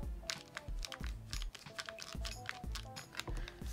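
Close, busy clicking, tapping and creaking from handling a plastic-bodied Zoom Q2n-4K camera, with repeated low thumps and light rattles, steady and without talk.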